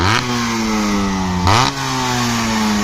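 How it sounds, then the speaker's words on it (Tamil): Motorcycle engine revving hard after carburettor tuning, with a piston reported holed; a steady idle drone climbs in two sharp throttle blips, loud and close, with no talking. "80 மேலே போனால் வண்டி ரொம்ப ஆஃப் ஆகுது போல், அதனால் நிறுத்தி நம்ம கௌரி நான் டியூனிங் பண்ணியிருக்காரு."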